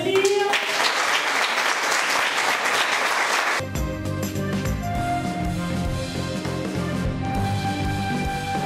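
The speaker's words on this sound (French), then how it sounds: "Je crois qu'on peut les applaudir." A crowd at a community climate event breaks into dense applause for several seconds, then it gives way to talk and background sounds for the rest of the clip.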